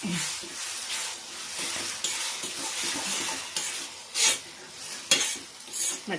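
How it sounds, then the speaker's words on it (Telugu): Red chillies frying in oil in a pan, with steady crackling sizzle, stirring scrapes, and occasional louder clinks of a spoon against the metal pan, close and continuous. "మిరపకాయలు చూడండి ఎంత బాగా వేగిపోయినాయో."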